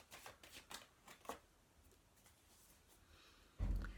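Oracle cards being shuffled and drawn by hand at a tarot reading, with a string of soft, quick riffling flutters followed by a louder, close handling thump near the end; no one speaks.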